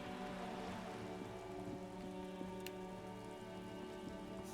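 Steady, faint rain falls on surfaces in Disco Elysium, a soft even patter under a low ambient hum, with no talk.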